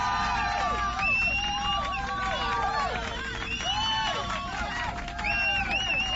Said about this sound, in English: I have a cheer button on this one.